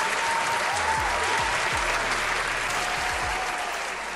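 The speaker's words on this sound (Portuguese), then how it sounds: "Eu peço uma salva de palmas." Loud, sustained audience applause at a televised stand-up comedy show, a dense even wash of clapping from a close crowd.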